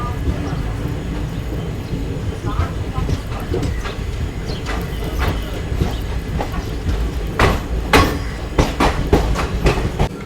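A Jhansi–Kanpur special passenger train pulls out of Kalpi railway station after a brief halt, its steady low rumble building with sharp clattering wheel clicks over rail joints toward the end, heard from on board.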